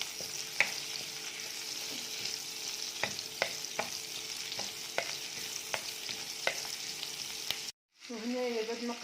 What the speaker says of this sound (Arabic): حطيت شويه بصله وشويه ثوم ونقعد نقلي فيها كيما